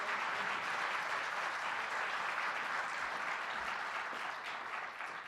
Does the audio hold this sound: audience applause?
yes